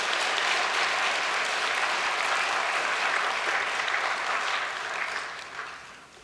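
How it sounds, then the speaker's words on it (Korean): Audience applause at a church gathering honoring senior elders, a dense steady wash of clapping from a large crowd that holds for about five seconds before fading out. "이 시간 존경과 감사의 박수를 보내십시다"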